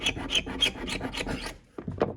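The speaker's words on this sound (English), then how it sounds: "Let's see if I can use the scraper to expose some bungs now that I know they're here." A hand scraper rasps across wood on a boat's cabin side to uncover bungs, about eight quick, rough, close-up strokes in steady rhythm, then a brief pause and two more scrapes.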